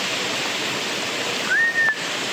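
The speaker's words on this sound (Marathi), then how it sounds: "बघा घरी नदी भरली आहे. तुळुंब भरली नदी." A brim-full village river rushes in a steady, close broadband roar, with a brief high whistle-like tone near the end.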